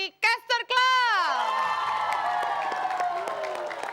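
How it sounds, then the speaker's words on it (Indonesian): Applause and cheering rise from a studio audience on a talk show, with whoops and shouts, starting after a brief spoken phrase and continuing as a steady roar. "Tepuk tangan buat teman-teman dari Caster Club."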